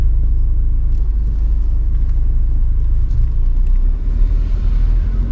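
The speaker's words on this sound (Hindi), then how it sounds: "देखिए बस गाड़ी चल रही है" Steady low engine rumble and road noise from a Tata Nexon automatic petrol car driving along, a continuous hum with no talk over it.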